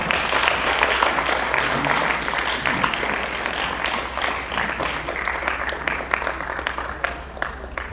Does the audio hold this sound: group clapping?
yes